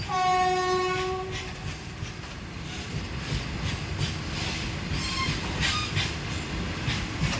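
A train passes nearby, opening with a loud horn blast and settling into a steady rumble and rolling clatter of wagons that holds throughout.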